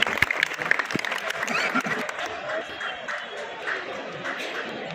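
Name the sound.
audience applauding at a protest gathering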